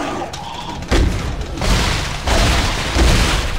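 Line gun firing in Dead Space 3, heavy booming shots spaced roughly a second apart, four or so loud thumping blasts with a short rumbling tail after each.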